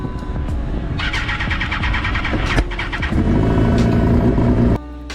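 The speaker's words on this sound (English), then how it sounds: "Then the engine miraculously turned on" A race car engine at Silverstone cranks and catches after going off track, rumbling up into a running idle with a few rising revs, loud and close, then cuts to a lower drone.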